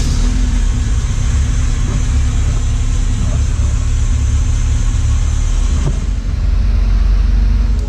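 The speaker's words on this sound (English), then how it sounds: "Now that she starts and runs without leaking a ton of fuel" A hopped-up 1985 Toyota 4Runner engine idles loud and close, a constant deep rumble with a brief dip near the end.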